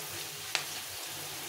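Curry leaves frying in a pan, a steady close sizzle throughout with a single brief clink near the start.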